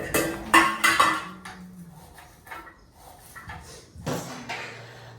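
A knife cuts onion in a home kitchen during chicken biryani preparation, giving a few irregular sharp knocks and clinks against the board, with quieter scraping between them.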